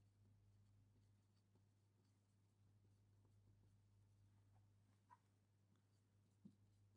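Faint scratching and tapping of writing on a board during a biology lecture, soft and intermittent over a steady low hum, with a few small knocks near the end.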